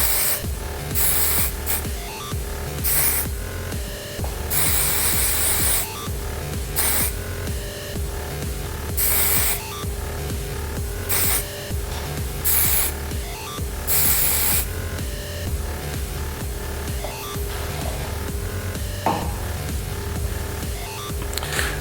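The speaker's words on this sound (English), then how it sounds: "So what I do is just going to spray and shake." Shine spray misted onto hair during styling comes as repeated short hissing bursts in an irregular rhythm, close and fairly loud, separated by quieter rustling as the hair is shaken.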